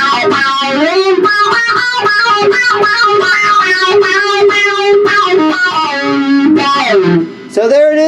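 Guitar run through a Guyatone Funky Box effects pedal plays a steady, loud, sustained phrase whose tone sweeps and quacks, ending with a brief pause and a final plucked note.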